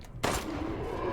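A single sharp gunshot from Resident Evil Village: Shadows of Rose lands a headshot in a burst of noise, followed by a lingering roar and low game ambience.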